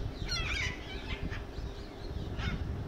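Loud, harsh honking calls from large birds like geese at Chittagong Zoo, several blasts in quick succession, then a final honk, over a noisy background.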